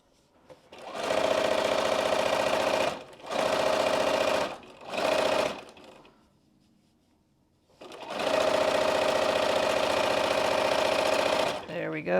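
A sewing machine stitches fabric pieces of a homemade pattern together in three loud bursts, pauses briefly, then runs one long steady stretch before stopping.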